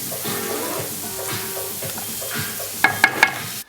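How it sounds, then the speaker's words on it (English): Split chickpea curry cooking in a pot after boiling water is added gives a steady close sizzle and bubble, with a few sharp clinks near the end before it cuts off. "just add some more boiling water, and again, just leave it, let it cook, let it cook."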